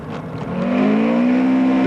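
Rally car on a forest stage of the 1999 SCCA ProRally Susquehannock Trail event, its engine note rising steadily as it accelerates and draws close, loud and continuous with no talk over it.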